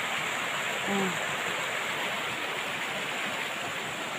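Forest creek flowing steadily, a constant wash of water close by with a brief faint chirp near the start and no talking.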